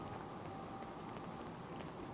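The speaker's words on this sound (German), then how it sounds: "Naja, jetzt regnet es." Steady, faint rainfall in Fallout 4 patters evenly across a surface, a continuous hiss with no pauses and no voices.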